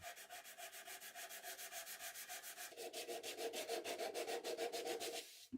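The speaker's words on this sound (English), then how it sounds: "I can get the final sanding done and round over all the corners that I want rounded over." Sandpaper rubs back and forth over a walnut piece being rounded over before oiling, a regular stroke-by-stroke rasp close up that speeds and grows louder midway before stopping abruptly.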